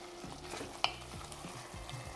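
Corn biryani with fried potato and salt being stirred in a pot, giving a quiet, steady sizzle with soft scraping movements and one brief sharp clink of the utensil.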